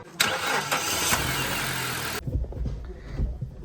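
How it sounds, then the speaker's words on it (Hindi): A Hyundai i20 car engine cranks and catches, a loud broadband churn that cuts off after about two seconds and settles into a low, uneven idle rumble. "स्टार्ट कीजिए गाड़ी।"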